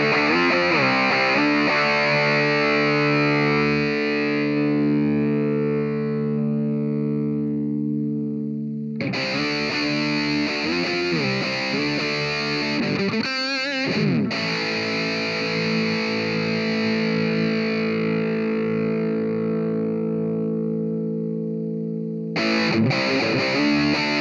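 Electric guitar played through an Amplitube amp model with pedals and a cab simulator, heavily distorted with sustained ringing chords and bursts of strummed notes, loud and continuous with brief gaps.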